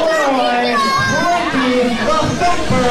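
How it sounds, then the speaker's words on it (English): A loud crowd at a Southern Illinois championship wrestling event shouts and cheers continuously, with children's voices prominent in the dense, noisy din. "Got a loud crowd here."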